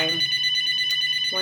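A telephone rings with an incoming call, a steady electronic bell tone that rises over low background voices and music and sounds fairly close.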